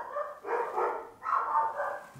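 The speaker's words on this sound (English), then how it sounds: "Dogs. Why are they such a pain?" Dogs give a few muffled, moderately loud barks and yips from somewhere indoors nearby, in two short bursts with no talking.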